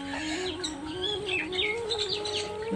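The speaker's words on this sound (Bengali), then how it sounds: "গ্রামের বাড়িতে পাখি ডাকতেই থাকে চারদিকে," Birds, including common mynas, call continuously around a village house in the Bangladeshi countryside, a dense mix of close, loud chirps and tweets with a steady low hum underneath.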